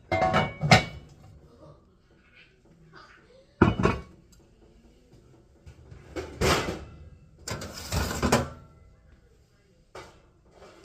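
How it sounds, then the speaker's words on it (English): Clean dishes, pots and cutlery clatter loudly in bursts as they are stacked into a kitchen cupboard, with cupboard doors knocking between pauses and a person speaking. "we have to put the clean dishes away that are on the stove."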